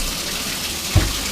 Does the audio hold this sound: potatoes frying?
no